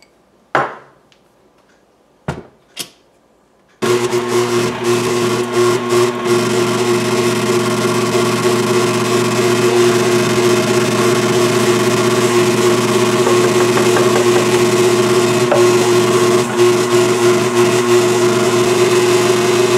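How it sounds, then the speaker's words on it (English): An electric mixer creams butter and sugar for a banana cake, starting after a few knocks and then running with a steady, loud motor whir that holds for over fifteen seconds. "In a mixer, cream the butter and add your sugar until blended."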